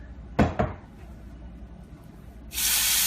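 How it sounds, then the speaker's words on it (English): Olive oil sizzling in a hot cast iron pan while cooking a beef pot roast: two sharp knocks of the pan, then a loud, steady hissing sizzle bursting in near the end. "You need to hear that sizzling coming out of that there pan."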